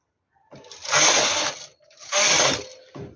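A knitting machine carriage pushed across two rows while making a baby shoe, each pass a loud mechanical clatter and whir, with a short pause between the passes and no talking.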